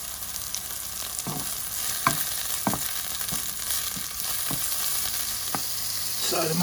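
Oyster and shiitake mushrooms sizzle steadily in hot oil in a wok, with soft scraping stir strokes popping up every second or so over a constant frying hiss.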